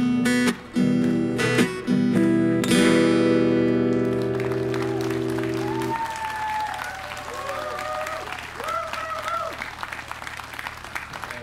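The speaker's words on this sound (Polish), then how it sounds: "za ten podryw na końcu z klaskaniem" Audience applause at the end of a sung song at a Polish sung-poetry festival, a guitar chord ringing out first, then sustained enthusiastic clapping from a crowd that continues loudly for several seconds.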